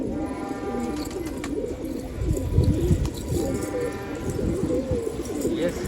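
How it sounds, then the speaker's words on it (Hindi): Domestic pigeons kept by a hobby fancier coo continuously and close by in overlapping low, throaty rolls, with steady background noise and only faint hints of a voice. "कैसा कबूतर है भाई देखो।"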